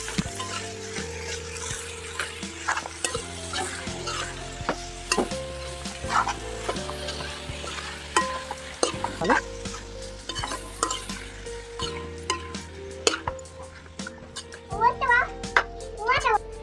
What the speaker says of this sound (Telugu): కొద్దిసేపు మంచిగా ఈ బోటిని మగ్గించుకుందాం